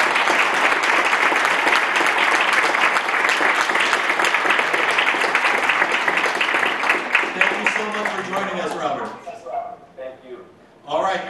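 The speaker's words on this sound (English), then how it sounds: "can he at least hear a round of applause?" A panel audience at a comics event claps in a full round of applause that fades out toward the end, with scattered voices and a few sharp sounds after it dies down.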